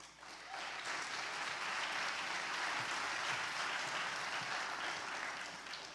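An audience gives dense, sustained applause that fills the hall evenly for several seconds, loud and continuous, with no talk over it.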